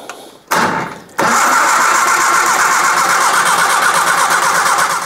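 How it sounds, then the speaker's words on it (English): A Triumph Spitfire engine is cranked over from a push-button solenoid, starting with a short whirring burst, a brief pause, then a sustained steady churning of the starter turning the engine without it firing. "we'll just turn it over just to get it exercised a bit before we try to start it"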